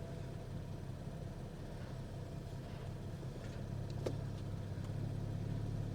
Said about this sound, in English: Okay, so it idles fine.